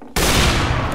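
A sniper rifle shot in the video game Team Fortress 2 hits with a sudden, loud, close blast that rings on as a dense, harsh roar for the rest of the moment.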